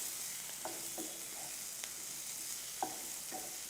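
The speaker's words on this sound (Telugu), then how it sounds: "టోటల్గా ఇలా మిక్స్ అయ్యేలా ఫ్రై చేయాలి" Cauliflower with green chillies stir-frying in a pan, a soft continuous sizzle with several short spatula scrapes and knocks spaced irregularly.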